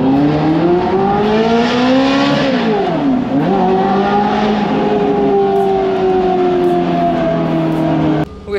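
A Liberty Walk gated Ferrari F430 on a road test revs loudly and closely through the gears, the engine pitch climbing, dipping at a shift, then holding a strong steady drone before cutting off.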